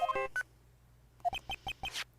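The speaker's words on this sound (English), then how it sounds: "Hey, that's the Steel Samurai theme song, isn't it? I don't like the sound of this ringtone right now." Ringtone playing the Steel Samurai theme from the Ace Attorney video game, a short electronic melody of bright synth notes, first a quick flurry then a rhythmic run of five evenly spaced tones, alone and fairly clear.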